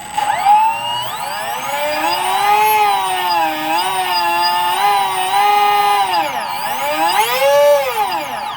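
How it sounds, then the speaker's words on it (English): Small wire flex-drive cable spinning inside the stuffing tube of a 1:20 scale wooden model hydroplane, a loud continuous high-pitched whine that rises and falls as the throttle is opened and eased back, with a sharp dip and swoop near the end. "You know, the flex cables whipping in there at a certain RPM on the throttle up and on the deceleration."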